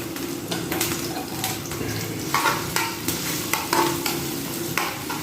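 Crushed garlic sizzles in hot oil for a tempering, a soft steady fry broken by rhythmic stirring scrapes and clinks of a utensil in the pan, with no one talking.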